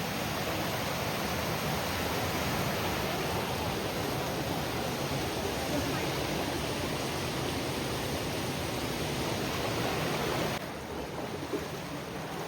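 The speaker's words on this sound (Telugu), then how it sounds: "ఇదొక రివర్. దాంట్లో ఇగో మస్తు ఫ్లో అవుతున్నాయి వాటర్ అయితే." A strong river near Kalu Waterfall in Maharashtra rushes in a steady, dense roar that fills the whole clip close by, easing slightly near the end.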